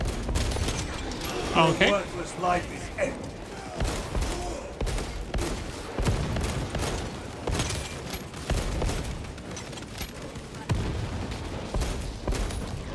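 Dense gunfire from Warhammer 40K: Space Marine 2 crackles almost without pause, a loud fusillade of rapid shots and booms with someone talking over it briefly.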